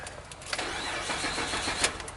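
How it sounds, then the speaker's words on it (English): A Mitsubishi 3.8-liter V6 cranks without catching, the starter churning in a fast, steady rhythm for about two seconds, close and fairly loud. "Customer complaint is doesn't run. It's a crank, no start."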